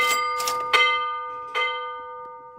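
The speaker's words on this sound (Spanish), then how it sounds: "Lo más interesante ahí fue que Don Rubito con una campana vieja" An old bell at a museum in Peña de Bernal, Querétaro, is struck several times, its bright metallic clangs ringing out in an irregular sequence with long, sustained humming decay between strikes.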